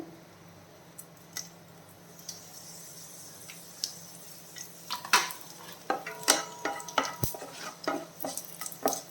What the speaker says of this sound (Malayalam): നമ്മുടെ കടുക് പൊട്ടുന്നുണ്ട്